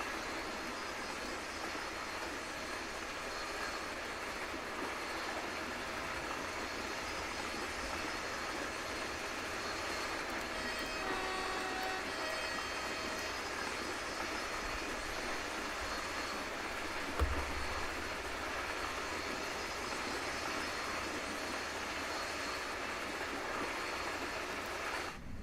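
A train in the video game Train Sim World 5 rumbles steadily past from outside, a long, even mechanical drone with a brief low thump midway and no talking.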